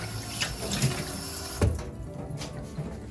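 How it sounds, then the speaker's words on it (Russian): Tap water runs steadily close by, with splashing and a few soft knocks as a piece of salmon is rinsed under the stream; no talking. "Просто проточной водой споласкиваем."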